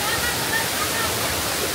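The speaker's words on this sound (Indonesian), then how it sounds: "Ini air terjun Kliwon." The Kliwon waterfall in Indonesia roars loud and close, a dense, unbroken rush of falling water.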